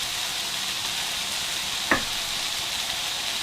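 Soy sauce hits day-old brown rice frying with sesame oil, giving a steady, even sizzle with one brief tap of a utensil midway.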